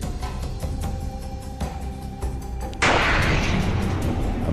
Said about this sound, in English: A massive explosion equivalent to 440 kilotons of TNT.